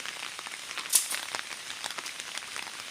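Rain falling steadily outside a cave, a dense hiss of drops on surfaces with scattered louder drips and one sharp tap standing out, moderately near, with no voices.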